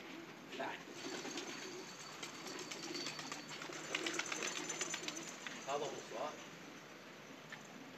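Pigeons coo softly nearby in a loft, their low throaty calls rising now and then over rustling and movement, with people's voices in the background.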